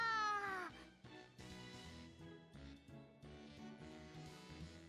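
A voice imitates a cat's meow, one drawn-out, high, sliding "nyaa" at the start, followed by game music and ambience.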